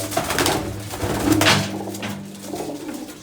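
A white pigeon with black eyes coos in a close, steady run of low throaty notes, with no other sounds over it.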